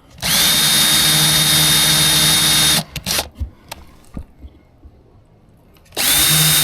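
A power drill bores into wood studs for a small 4x8 camper build. A loud, sustained whine runs for nearly three seconds, then a few clunks and handling knocks follow, and the drill starts up again at the end.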